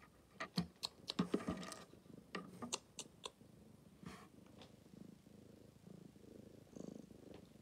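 A cat purrs softly up close in a quiet room. Scattered sharp clicks and taps, like keys or small objects, punctuate the low purring.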